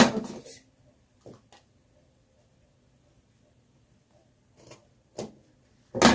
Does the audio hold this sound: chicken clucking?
no